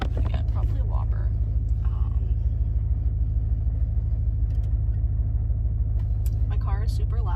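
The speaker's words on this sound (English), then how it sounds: "My car is super loud because my tailpipe bracket is loose again." A car runs loud because of a loose tailpipe bracket, producing a constant deep exhaust rumble throughout. A person talks over the engine at the start and again near the end.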